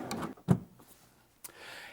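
A drawer on a wall-mounted workshop tool organizer slides open and shut, giving a sharp knock followed by short scraping and a later click, close and fairly quiet.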